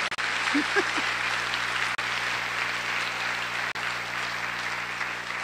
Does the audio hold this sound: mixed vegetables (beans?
no